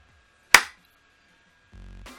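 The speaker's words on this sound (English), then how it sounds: "And a quick sync clap." A single sharp hand clap rings out close by in near silence, followed by a low hum.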